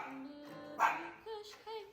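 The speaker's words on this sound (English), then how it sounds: "Hey, no barking. No barking." A dog gives a few short, high barks and yips indoors, three or four spaced bursts at close range, fairly quiet, with some voice-like sounds mixed in.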